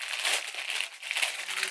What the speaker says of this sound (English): I need my scissors so I can open the bag